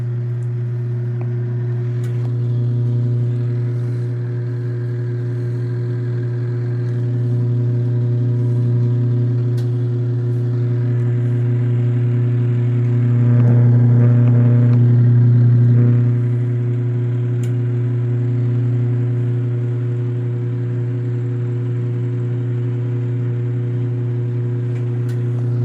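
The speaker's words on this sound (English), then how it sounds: "How fast does it go? Only 500 RPM, which is where it's at now." An LG ThinQ MEGA washing machine spinning at 500 RPM on a filtration wash cycle gives a steady, loud motor hum with a low drone that swells briefly midway before settling back.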